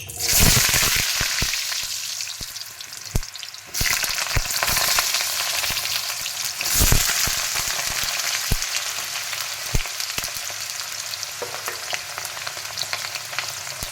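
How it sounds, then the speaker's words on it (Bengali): Potatoes fry in rice bran oil in a wok, a dense, loud sizzle with occasional sharp stirring clatters and a brief dip partway through, no talking. "এখন আলুগুলোকে ভেজে নেব আগে।"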